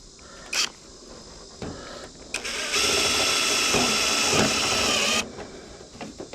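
Power driver sinking a metal tapping screw into a sheet metal gutter, a few short clicks and handling knocks, then a loud steady whirring drive for about two seconds that stops abruptly, followed by light clatter.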